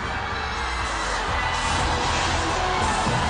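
Studio audience at a Chinese television show applauding and cheering, a dense, continuous wash of clapping and crowd noise, fairly loud and unbroken, with no speech over it.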